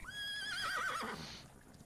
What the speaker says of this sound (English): Okay, I called my horse.